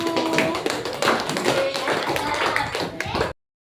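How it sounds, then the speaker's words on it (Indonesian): A primary school class applauding a pupil who has just presented, a dense patter of small hands clapping nearby for about three seconds before stopping abruptly, with some voices mixed in. "Kasih tepuk tangannya dulu."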